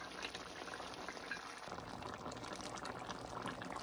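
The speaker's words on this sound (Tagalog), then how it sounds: "But I'm boiling this" Menudo of pork, pork liver, carrots, peppers, potato and green peas simmering in a pot, a soft, continuous bubbling with a slight rise in low rumble partway through, faint and alone.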